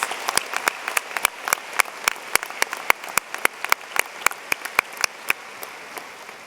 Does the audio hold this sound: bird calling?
no